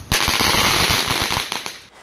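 A bomb explodes in a burst of rapid cracking blasts, loud and crackling like gunfire, running for about two seconds before tailing off, with no voices.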